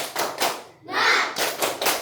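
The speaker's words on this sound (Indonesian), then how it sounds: "Tepuk semangat" A class of schoolchildren performs a rhythmic group spirit clap, loud and close, with bursts of synchronized claps broken by a short gap and mixed with chanted voices.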